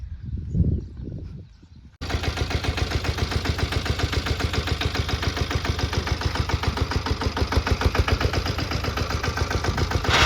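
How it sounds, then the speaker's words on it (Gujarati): After a brief murmur of voices, a small tractor pulling a field cultivator through a groundnut farm starts chugging loudly and steadily with a rapid rhythmic knock, close by, for the rest of the clip. "નાના ટ્રેક્ટરથી સોગડો હાલે છે"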